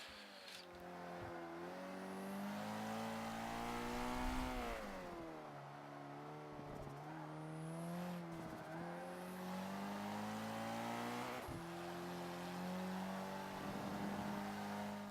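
A Toyota MR2 in a racing video game revs hard through the gears, its engine note climbing and dropping repeatedly, loud and close, with a brief tire squeal and no talking.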